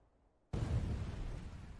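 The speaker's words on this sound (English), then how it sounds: "them clashing sounds like an explosion in the water" After a half-second of near silence, a deep, muffled boom from an anime ninja fight erupts and rumbles on, sounding like a distant underwater clash heard through a barrier.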